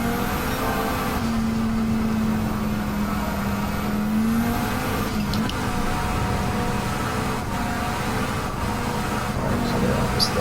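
Inside a Volvo V40 T5 R-Design on a track, the engine drones steadily under acceleration with strong induction noise, a continuous close hum that rises slightly in pitch, with no talking.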